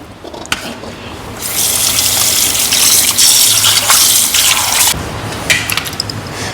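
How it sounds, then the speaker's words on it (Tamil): Tap water gushing into a sink while fish is rinsed, a strong steady rush that starts after a second and runs for several seconds, then eases back to softer splashing and clinks. "மீனை வந்து நல்லா குளிப்பாட்டியாச்சு. ஒரு 10 தண்ணியில் அலசியிருப்பேன்."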